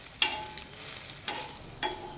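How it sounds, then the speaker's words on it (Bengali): An egg paratha cooking in a pan with chopped onion, the egg frying along with the bread, giving a low steady sizzle broken by three short scraping stirs spaced across the moment, quiet and without talk. "পরোটাটা, ডিম পরোটা ভাজা হচ্ছে।"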